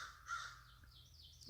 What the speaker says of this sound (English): crows that I feed.